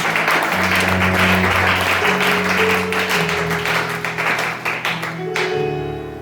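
A church congregation applauds during a Sunday worship service, a steady, full roar of clapping that carries on throughout, with sustained organ or keyboard tones underneath that shift pitch and thin out near the end.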